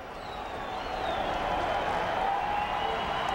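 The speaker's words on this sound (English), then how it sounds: "listen to the crowd here. Split about halfway down the middle. Colorado State fans, Colorado fans, and a sellout crowd." Sellout stadium crowd at a 2001 college football game between Colorado and Colorado State, fans split roughly half and half, a steady broad roar swelling slightly and holding loud throughout.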